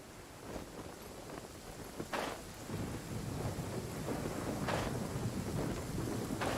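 A thunder and lightning storm rolls through in the game Genshin Impact, with steady rain hiss, sharp cracks of close thunder and a rising rumble that fills the scene.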